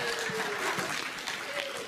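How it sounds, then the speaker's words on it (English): Light audience clapping in a lecture hall before a math talk, a brief, even patter of hands that stays moderate and steady with no speech over it. "Oh, a clap, thank you."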